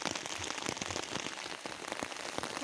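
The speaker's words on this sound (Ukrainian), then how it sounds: "Ми тільки що попали під таку зливу, зараз вже не така сильна." Heavy rain pours steadily through a forest, a dense continuous hiss of drops striking leaves and ground close by, loud and unbroken with no voices.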